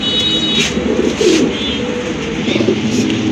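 A pair of large, pure white pigeons coo softly and repeatedly up close, their low throaty calls rolling over a faint background hum.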